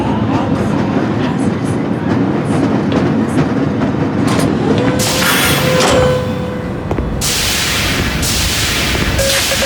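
A tram rolls through the Black Mesa research facility in the Half-Life game, a steady low rumble and rattle of rail transport with hissing bursts and a brief tone partway through, loud and continuous with no talking.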